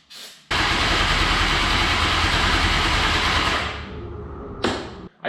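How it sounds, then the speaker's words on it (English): Kawasaki Ninja ZX10R motorcycle engine with a crushed exhaust, sprayed with ether, catches and runs loud and rough for about three seconds before dying down, with a sharp clank near the end. "see if we can get this motor fired up"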